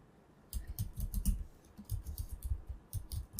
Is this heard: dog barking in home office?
no